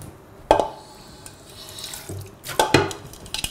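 Peeled ginger is rinsed under a running kitchen tap, with water splashing and gurgling close by in a few bursts as the piece is turned, and no talking.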